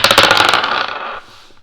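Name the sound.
dice being rolled for a tarot reading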